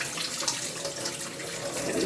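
Water pours steadily from a kitchen tap as rice and lentils are rinsed for kitchari until the water runs clear, a continuous close splashing rush.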